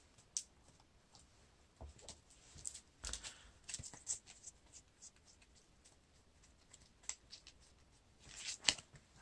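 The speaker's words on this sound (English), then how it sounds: "Shuffle the encounter deck." A deck of cards for a Lord of the Rings card game being shuffled at a table, giving soft, quiet riffling and clicking flutters in several short bursts over a low background.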